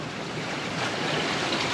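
Big waves and strong wind of about 20 knots surge around a sailboat at sea at night in the Strait of Bonifacio, a loud, continuous rushing wash with no voices.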